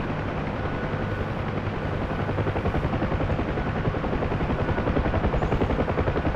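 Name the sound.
helicopter flying in video game DCS with gunfire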